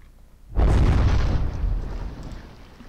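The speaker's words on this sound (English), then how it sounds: "that was a big blast, and yep, down she goes" A ship's fore peak blows up in the naval game From the Depths: one sudden, heavy boom strikes after a quiet start, then rumbles and slowly fades over the next two seconds.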